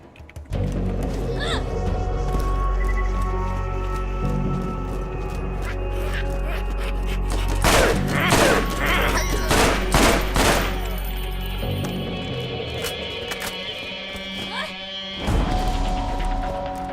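Side-fed combat rifles fire in the Borderlands video game, machine-gun-like bursts of rapid shots in the middle, amid steady game ambience and other effects.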